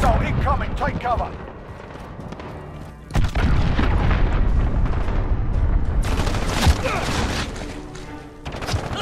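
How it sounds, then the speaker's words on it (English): Loud booming blasts and heavy gunfire in a Modern Warfare Headquarters 10v10 match, with a big cruise missile impact near the middle and more explosions rumbling after, under radio-style game voice lines. "Enemy cruise missile incoming."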